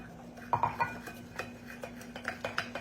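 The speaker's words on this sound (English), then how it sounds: "Stir that up." A spoon scrapes and clinks against a bowl while plain flour is stirred into a crumbly casserole topping, a quick run of light taps and scrapes close by with no talking.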